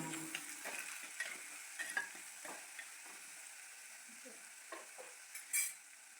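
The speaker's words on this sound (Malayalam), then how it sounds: "അതോടൊപ്പം രണ്ട് പച്ചമുളക് നീളത്തിൽ കീറിയതും ഒരു തക്കാളി ചെറുതാക്കി അരിഞ്ഞതും കൂടെ ചേർത്ത് ഒന്ന് ഇളക്കി വഴറ്റിയെടുക്കാം" Green chillies slit lengthwise and chopped tomato are stirred in a hot pan, giving a faint, steady sizzle with soft scraping stir strokes and one brief louder burst near the end, with no talk.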